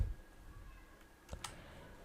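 A couple of quick, faint computer mouse clicks on a start streaming button, close and crisp over a quiet room hum.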